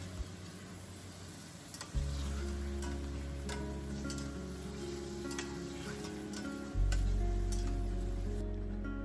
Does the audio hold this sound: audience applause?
no